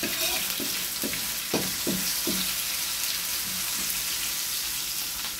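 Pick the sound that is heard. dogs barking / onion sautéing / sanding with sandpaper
onion sautéing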